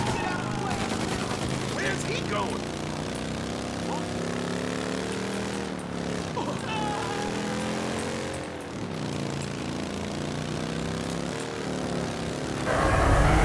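Gunfire from the video game Mafia Definitive Edition, sustained shots over a constant engine-like drone with game music, ending in a louder burst.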